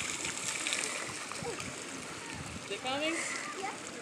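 Water from a pool sprinkler toy sprays and splashes in a continuous hissing wash, with children's voices and shrieks heard faintly over it.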